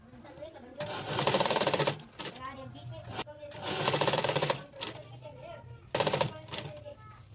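A sewing machine stitches puff sleeves in three long bursts of steady rapid whirring, separated by pauses where a voice talks.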